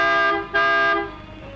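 A car horn gives two loud sustained blasts, the second longer, close by with little else around.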